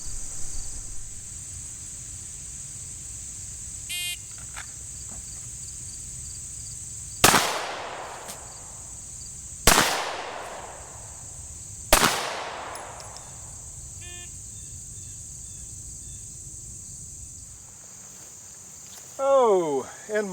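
Three sharp, loud handgun shots ring out a couple of seconds apart during a timed shooting drill from behind cover, each echoing briefly over a steady insect-like outdoor hiss, with talk at the end.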